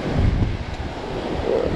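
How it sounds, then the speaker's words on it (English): Wind blowing across a lake on a spring fishing outing, buffeting the microphone with a loud, gusty low roar and hints of water lapping, steady throughout with no talk. "A little bit windy today"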